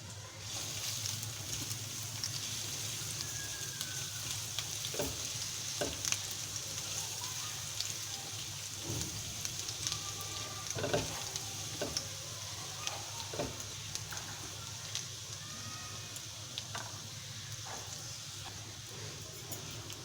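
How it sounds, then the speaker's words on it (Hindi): Chopped garlic frying in two to three spoons of cooking oil for chicken fried rice, a faint, continuous sizzle with scattered crackles and soft taps. The sound is steady throughout and no one speaks. "अब इसमें डालेंगे चॉप लहसुन, इसको करेंगे फ्राई।"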